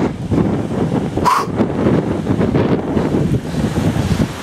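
Strong wind buffets the microphone on a mountain pass in the Alps during a bicycle tour, a loud continuous roaring rush with gusty swells throughout.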